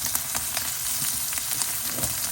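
Rib eye steak sears in a hot iron pan, a steady close sizzle and crackle of frying fat with faint pops throughout, no voices.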